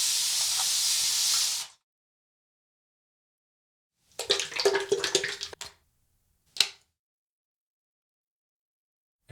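Water splashes onto a face in a short, close burst of wet slapping and dripping, followed by a brief sharp splash and silence, after a long steady spray hiss at the start.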